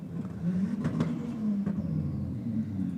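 Race car engines rev and drone at Sydney Dragway during a roll racing event, a steady, loud mechanical rumble that holds throughout with brief surges and no talking.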